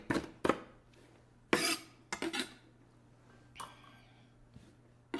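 A knife strikes a cutting board chopping green onions in a few irregular sharp chops with brief scraping between them, close and fairly quiet against a faint background hum.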